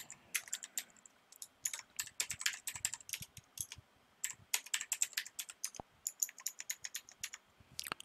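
Fingers type a password on a computer keyboard for a login attempt in an emergency mobile app demo, crisp close key clicks in quick irregular bursts with brief pauses, no talking.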